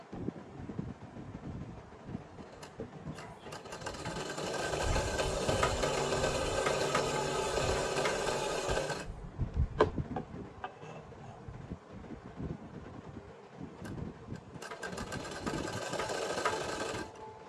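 Sewing machine stitching salwar fabric in bursts, a fast close mechanical whirring run of several seconds, a pause with small clicks and handling, then another stitching burst near the end.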